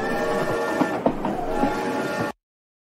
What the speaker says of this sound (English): Let's go right on the train.